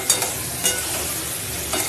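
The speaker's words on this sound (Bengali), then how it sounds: "দিয়ে এবার ভালো করে আমি কষিয়ে নেবো বেশ কিছুক্ষণ ধরে।" Spice paste and prawns being sautéed and stirred in a pan: a steady, close sizzle with a few brief scraping bursts from the stirring, and no voices.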